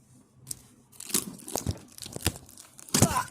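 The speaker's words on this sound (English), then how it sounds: "I'm gonna get this tape off real quick." Packing tape tearing off a cardboard parcel box holding a fire alarm system, a series of close, crackling rips and crinkles in uneven bursts, the loudest at the end.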